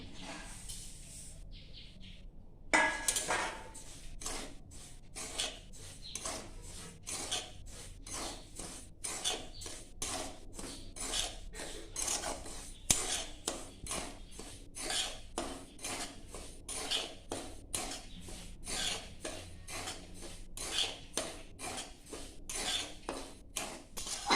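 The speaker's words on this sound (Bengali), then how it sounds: "পাঁচ মিনিট ধরে আমি সুজিটাকে হালকা করে ভেজে নিলাম।" Semolina dry-roasting in an empty wok, about 250 grams, stirred steadily with a utensil scraping and clinking against the metal in a rapid, continuous rhythm, with faint bird chirps in the background.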